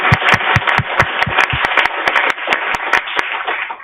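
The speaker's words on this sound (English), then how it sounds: "Let's have one more round of applause for all of our wonderful speakers." An audience applauds the speakers at the close of a session on induction cooking technology, giving a steady run of clapping with several sharp, close individual claps standing out on top.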